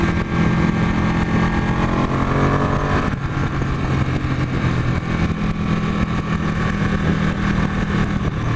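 A 2015 Ducati 899 Panigale with a quick shifter is ridden at speed, giving a loud, steady engine roar under heavy wind rush with a brief shift in pitch partway through.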